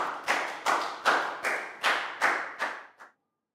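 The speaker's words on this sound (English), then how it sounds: "Big round of applause for Dan." Applause for a pupil in a Year 4 science class comes as eight evenly spaced, echoing claps, each fading before the next, ending abruptly in silence.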